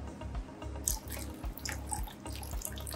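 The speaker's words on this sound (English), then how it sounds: "So once again, I'm gonna rinse this off with" Running water from a tap pours and splashes in a sink as fish food is rinsed with an RO and salt water mix, a close, steady gurgling stream with small drips.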